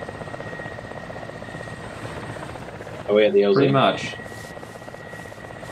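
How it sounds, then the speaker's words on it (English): A helicopter in a tactical military video game drones steadily close by, its rotor hum constant throughout, while players talk briefly over it in the middle. "Is that actually a friendly helicopter?"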